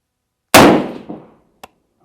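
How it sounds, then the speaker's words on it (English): A single shot from a PSA Sabre AR-10 rifle, an M110-style clone, is fired at a target. One sharp, loud report trails off into a decaying echo, followed by a small faint click. "I'm going to shoot at that middle target"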